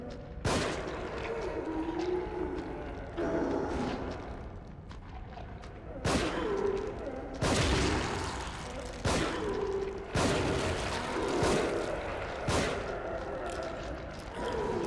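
Gunshots ring out at a trap in The Evil Within, several loud, sharp blasts spaced a second or two apart over a murky game ambience, with no talking.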